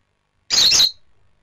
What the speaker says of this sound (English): Bird chirps, very loud, screechy noise.